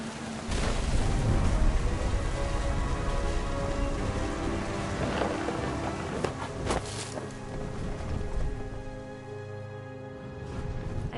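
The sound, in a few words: rain and thunder in What Remains of Edith Finch video game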